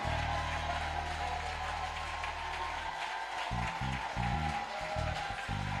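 A congregation at a Sunday church service applauds and cheers in a steady, dense wash of clapping that lasts throughout, layered over sustained low musical tones.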